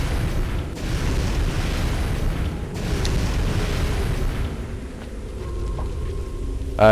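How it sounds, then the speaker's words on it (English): Fireball spells cast in The Elder Scrolls IV: Oblivion, heard as a steady rumbling roar of magical fire with deep booming bursts that swell and fade over several seconds, loud and close with no talk. "I'm shooting the basic spells right now, which is Fireball"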